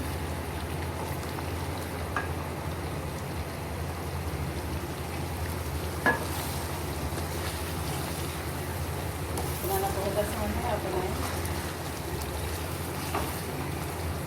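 Karahi meat frying in oil in a pan, a steady soft sizzle with faint scraping and occasional clinks running throughout at moderate, even level.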